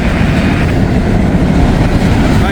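A train passes close by the Abner Gaines House in Walton, making a loud, steady rumbling roar that fills the whole stretch without a break.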